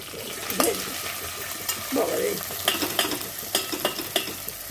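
Chopped onions sizzle and fry in a pan for a Mangalorean mutton ghee roast, a steady close crackle with occasional scraping stirs and clinks over it.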